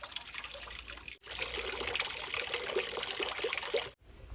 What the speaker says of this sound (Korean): 안내문 위쪽에 있는 우물에서 시원한 감로수 한 잔을 마십니다.